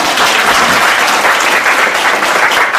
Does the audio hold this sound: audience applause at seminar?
yes